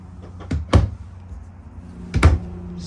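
Two solid cabinet doors in a 2024 Sunseeker 3010DS Classic Class C motorhome swung and closed one after another, each ending in a firm, close thump.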